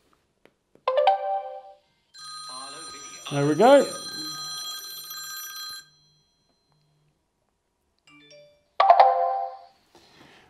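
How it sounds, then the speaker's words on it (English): A mobile phone ringtone triggered by an Arlo video doorbell, playing as a sustained electronic melody of several seconds between short bursts of a person talking nearby. "smart doorbells just ring your mobile phone when someone comes to the front door."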